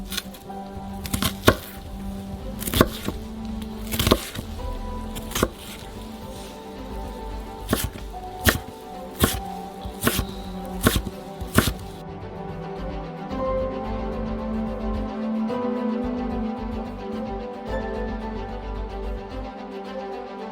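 Knife chopping onions on a cutting board: a run of sharp, close, irregular chops over the first twelve seconds, then softer kitchen noise with no speech.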